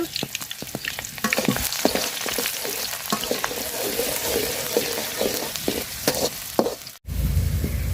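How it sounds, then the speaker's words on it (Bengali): Onions frying in hot oil in a pot, cooked outdoors in a rural setting: a steady close sizzle with frequent scraping stirs, then a brief pause and a duller sizzle. "পেঁয়াজটা লাল লাল করে ভাজা নিছি"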